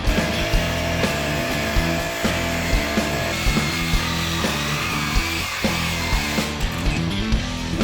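Power tool cutting through rusted screws on the back of a snowplow's cutting edge, a continuous loud grinding whine with regular rhythmic pulses and no voices.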